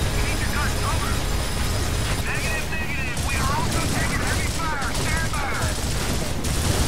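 Gunfire in the video game Gears of War: sustained rattling bursts and shots form a loud continuous barrage, with game voices and chatter calling out over the din.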